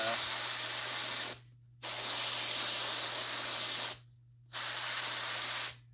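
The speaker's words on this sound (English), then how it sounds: "I'm going to take and spray this glue, this Wellwood glue" Loud hissing bursts from an aerosol can of Wellwood spray glue for a seat cover, two long sprays separated by short pauses, with a low steady hum underneath.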